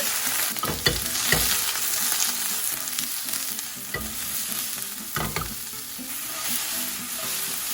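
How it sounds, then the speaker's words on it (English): Vegetables including red peppers sizzle steadily in a hot pan, with scattered scraping and stirring clatters from a utensil, no voices. "the pan's hot. Let's start with throwing our vegetables on"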